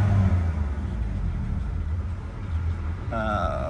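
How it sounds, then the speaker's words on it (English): A 2020 BMW M4 CS idles with a steady low engine rumble, filling the short stretch at a fairly constant level, with a brief higher tonal sound near the end. "Give it a few revs here"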